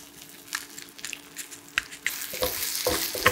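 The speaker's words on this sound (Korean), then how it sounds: "치즈가 녹아서 지글지글 소리 나면" A tortilla filled with tuna and mozzarella cheese sizzles and crackles in a frying pan, a steady close frying hiss that grows brighter and louder toward the end, with small pops and no speech.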